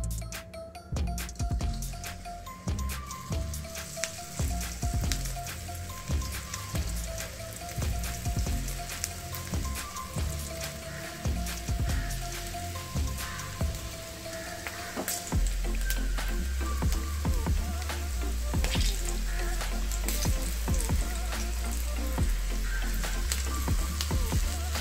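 Banana flower chilli fritters fry in hot oil, a dense continuous sizzle and crackle that is close and steady, growing heavier and deeper partway through as more batter goes into the oil, with no talking.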